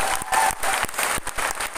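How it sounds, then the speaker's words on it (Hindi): Audience applause bursts up for the chief guest at an AWPL gathering, a dense, steady wash of many hands clapping that fills the short stretch with slight swells and dips. "तो एक जबरदस्त ताली बजाओ यार, जबरदस्त ताली अनुज सर के लिए।"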